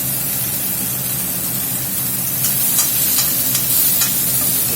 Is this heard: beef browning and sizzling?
yes